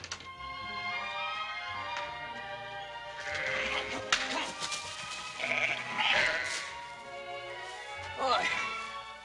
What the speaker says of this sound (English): I'll help you move the rest of those sheep before I start out for Placerville.